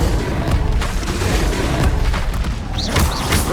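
An Incendio fire spell cast in Hogwarts Legacy on PS5, heavy booming bursts and crackling blasts rolling over a dense, loud battle din.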